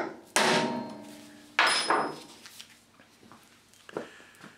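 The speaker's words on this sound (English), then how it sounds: "you can put the centre punch back in there and then you can give it a wide smack." Hammer striking a centre punch on metal while marking out, two sharp ringing blows with a lingering metallic tone, followed by small handling clicks.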